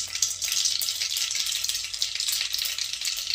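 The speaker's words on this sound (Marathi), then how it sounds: "त्याच्यात फोडणीसाठी मोहरी टाकायची, त्यानंतर याच्यामध्ये थोडे जिरे टाकायचे" Mustard seeds and cumin hit hot oil for tempering while semolina medu vada are being prepared, giving a close, steady, crackling sizzle with fine popping throughout and no talking.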